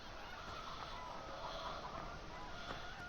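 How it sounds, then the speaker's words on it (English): A rooster crows and clucks in the farm game Mountain Lake 2015, a steady mid-level call over constant rural ambience, with no talking. "Oh, there's a mad cockerel there."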